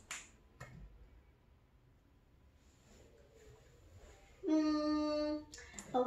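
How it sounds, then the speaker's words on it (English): A child snaps his fingers a few times, with sharp isolated clicks near the start. A tonal electronic beep follows, and faint background sound runs beneath. "I can snap my fingers."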